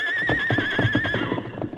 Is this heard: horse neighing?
yes